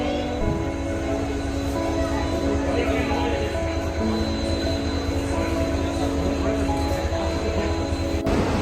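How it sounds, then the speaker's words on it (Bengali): A passenger train pulls into a station platform on a route toward Howrah, making a loud, steady rumble with sustained droning tones throughout and a sharp click near the end. "ঢুকে পড়েছে ট্রেন"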